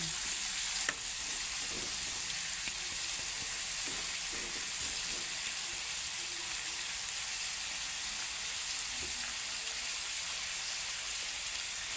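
String beans cooking as adobo fry in a pan with a continuous bright sizzle, broken by a few faint scrapes of stirring; the sound is close and steady, with no voices.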